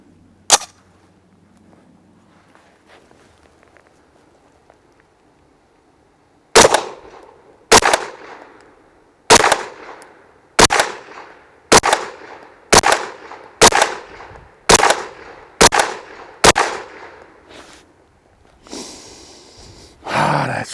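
A Taurus CT9G2 9mm carbine fires LAX jacketed hollow point ammunition outdoors, loud sharp shots: a single report, a pause, then about ten evenly spaced rounds.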